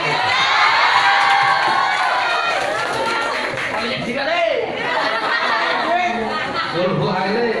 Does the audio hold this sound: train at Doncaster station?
no